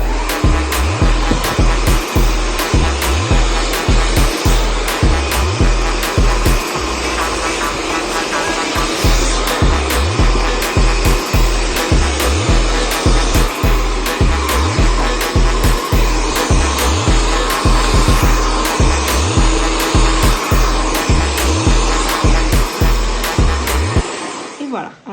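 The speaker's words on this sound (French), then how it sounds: "On met le sèche-cheveux et le sèche-cheveux doit suivre la brosse tout au long" A hair dryer blows loudly and steadily while hair is brushed, with a regular low thumping underneath, then cuts off at the very end.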